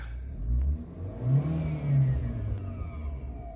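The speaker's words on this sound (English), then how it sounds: "If I rev it up a little bit" A 2016 Abarth 595C with its 1.4 T-Jet engine, sport mode engaged, is revved while the car is parked: a close, loud engine note swells and falls in a couple of throttle blips over a steady idle, with no talking.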